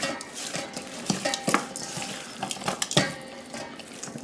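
Baked chicken pieces and onions tossed with seasoning in a pan, giving repeated wet, clattering stirs and scrapes with sharp knocks at irregular intervals, close and fairly loud with no talking.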